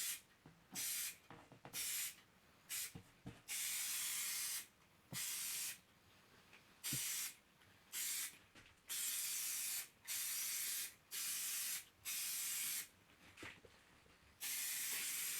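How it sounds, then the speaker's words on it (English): Short bursts of contact cement spray hiss up close, roughly a dozen sprays of varying length separated by brief pauses. "So I'm spraying contact cement on the blob."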